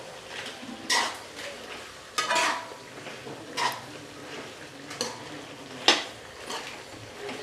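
Turmeric powder stirred into a bitter gourd tamarind curry: a faint background simmer with a few sharp spoon-on-pot scrapes and knocks at irregular intervals, close by, with no talk.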